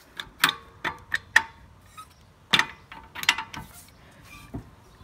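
A 19mm wheel wrench turning a wheel stud on a Holden Commodore with independent rear suspension makes irregular metallic clicks and ratcheting clacks in short bursts, close by and moderately loud.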